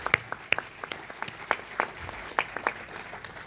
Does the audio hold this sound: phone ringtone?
no